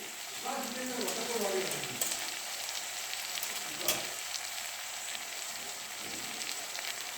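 Spices such as cumin, turmeric and red chilli powder sizzle steadily in hot oil for matar ghugni, a soft continuous crackle with a few louder pops.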